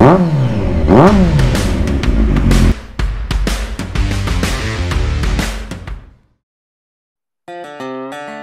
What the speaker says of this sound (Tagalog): And this is the Versys 1000 SE.